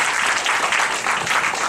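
An audience at a talk claps steadily, a dense, continuous patter of many hands, close and fairly loud.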